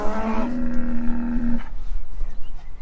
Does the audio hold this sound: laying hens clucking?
no